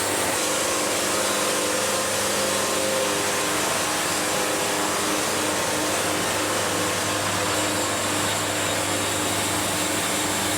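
Sawmill blade slicing a slab off a log, a loud, steady whining roar that holds unbroken for about ten seconds with no talking.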